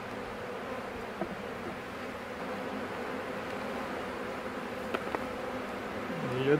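An opened honeybee hive holding a small colony gives off a steady, fairly faint insect buzz throughout, with a few brief knocks and a rising swell near the end.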